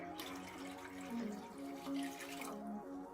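Clear water poured from one large jug into another container, a steady liquid stream with rising gurgling tones as the vessel fills, close and fairly quiet, with no talking.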